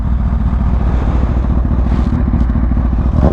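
A Kawasaki Ninja H2 motorcycle engine rumbles loud and close, a throaty, pulsing idle with a slight rev rise toward the end, heard alone without talk.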